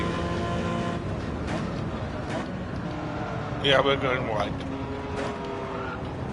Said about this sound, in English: All kinds of noises the car is making.